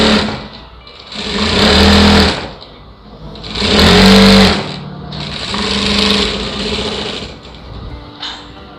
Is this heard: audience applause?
no